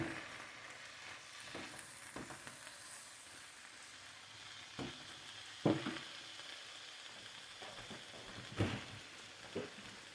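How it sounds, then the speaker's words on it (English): Vegetables cooking with butter in a pot get a quiet stir, with a soft low sizzle and a few scattered clunks of the spoon against the pot. "let's give this a little stir"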